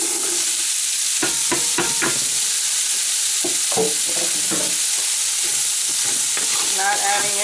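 Vegetables frying in rendered sausage fat for red beans and rice, a loud steady sizzle broken by sharp scraping and clinking strokes of a utensil stirring the pan.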